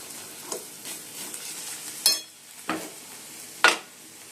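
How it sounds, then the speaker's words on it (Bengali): Egg frying in a pan gives a quiet, even sizzle, broken by several sharp scraping stirring strokes and spatula knocks at irregular intervals. "এই ডিমটা এবার ভেজে নিচ্ছি।"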